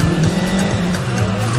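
Drift cars at a charity drifting event on a Quezon City street roaring steadily, with tires squealing and skidding over a constant loud engine roar; no talk.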